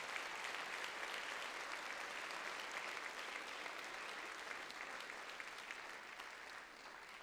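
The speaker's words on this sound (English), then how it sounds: "If we could please recognize and applaud Raquel Drieger." Audience at a high school senior awards ceremony applauds with sustained, even clapping from a large crowd, heard from some distance and fairly faint, tapering slightly at the end.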